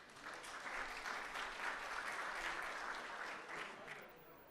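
Steady applause from a crowd at a community awards breakfast, sustained for several seconds before tapering off slightly at the end.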